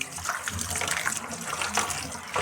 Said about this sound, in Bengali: এখন লবণ দিয়ে হলুদ দিয়ে ধুয়ে নিচ্ছি, লবণ হলুদ দিয়ে ধুয়ে নেব।